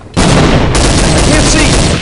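A grenade detonating in Counter-Strike 1.6, a sudden loud blast after a brief quiet moment that becomes a sustained, roaring wash of noise lasting to the end.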